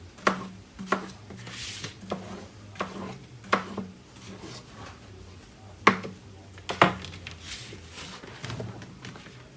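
A kitchen knife slices through food on a cutting board during meal prep, giving a series of sharp, irregular cuts and taps up close, with faint kitchen background noise and no talking.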